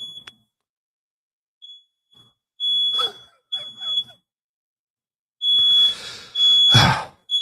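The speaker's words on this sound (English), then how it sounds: "smoke alarm's going off" A smoke alarm chirps in short high-pitched beeps, then sounds in longer loud bursts, with brief gaps of quiet between them.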